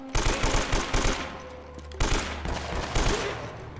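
Rapid gunfire from the video game Uncharted: Drake's Fortune, loud bursts of repeated shots in quick rhythmic volleys, with a brief pause before another sustained string of shots.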